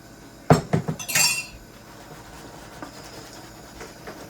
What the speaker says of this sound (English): As soon as you got enough liquid in your pan where you can shake it like that, that means you got enough.